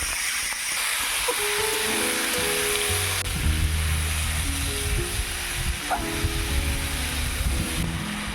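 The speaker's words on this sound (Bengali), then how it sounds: "তেল গরম হয়ে গিয়েছে, এবারে আলুগুলো দিয়ে দেব।" Potatoes fry in hot mustard oil with a steady, bright sizzle and hiss throughout, plus a few faint clinks and stirs from a kadai close by; no talking.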